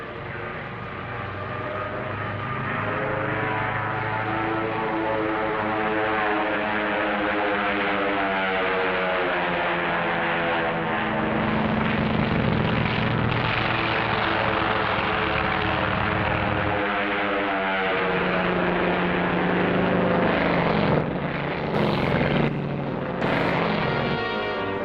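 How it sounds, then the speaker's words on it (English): Drone aircraft from Operation Crossroads in 1946 drone and hum steadily as they are launched from a carrier and fly, a continuous engine tone that rises and shifts in pitch over a muffled, vintage-sounding background. "the drone aircraft are launched and temporarily guided from the carrier"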